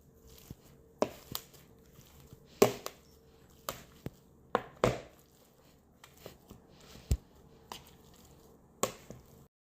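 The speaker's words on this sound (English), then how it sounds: "We're going to mix that up really good and mash it." Spiced potato and onion paratha filling is mashed in a bowl, a series of dull, irregular thumps and presses with quiet squishing in between, close and alone without talk.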